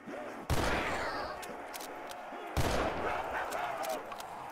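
A gun in the Roblox game Resurrection fires two loud, close shots about two seconds apart, each a hard blast with a ringing tail.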